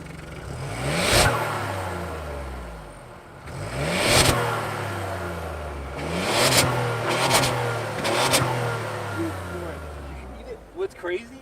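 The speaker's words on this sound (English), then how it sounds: "You need to hear the blow off from the turbo." 2021 Ford Bronco Sport Outer Banks 4x4 with a 2-liter turbo engine, revved in several sharp bursts that each fall away, with turbo blow-off hisses between, close by while people talk.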